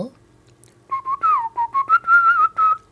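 A single person whistles a short melodic phrase, clear and close, with notes gliding and repeating in a steady tuneful line.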